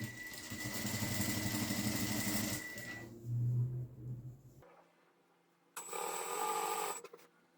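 An electric sewing machine runs a steady, buzzing stitch along the folded hem of a tricoline cotton pillowcase, stops, then starts up again for another short run, close by with no voices.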